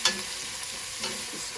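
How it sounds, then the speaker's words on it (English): Onions frying and caramelizing in a pan on a stove set near high, a soft steady sizzle with a brief stirring scrape at the start, close and quiet, no talking. "Now I like to caramelize the onions a little bit."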